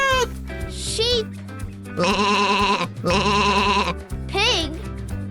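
A sheep bleats twice, two loud quavering calls of about a second each separated by a short pause, heard over lively children's backing music with brief cartoon chirps around them.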